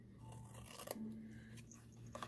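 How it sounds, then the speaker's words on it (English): Scissors cutting paper in a creative journal: a faint, brief crisp snip with soft rustling, heard alone at low volume. "Let's use scissors for this one."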